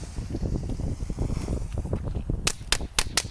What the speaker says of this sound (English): I love how the crackle is just so friendly